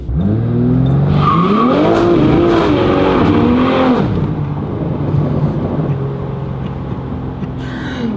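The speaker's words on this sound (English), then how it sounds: "Now, I gotta hear a little mini burnout" A BMW G80 M3 with an aftermarket exotic exhaust does a short burnout up close. The engine revs and roars loudly while the tires squeal, then the car settles into a steady, rumbling idle.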